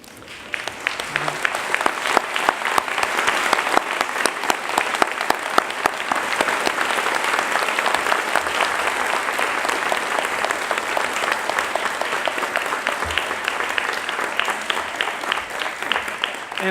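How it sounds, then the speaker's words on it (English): A large seated audience at an academic and leadership awards convocation applauds steadily, dense sustained clapping that fills the room without letup and stays loud throughout. "I know we've done a lot of clapping and cheering"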